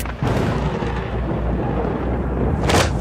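A loud, deep rumble of thunder rolling on for a few seconds, with a sharper crack near the end.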